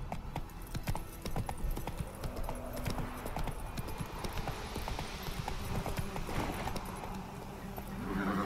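Roach the horse galloping in The Witcher 3, a rapid, steady clip-clop of hooves close up, running continuously with a faint whinny near the end.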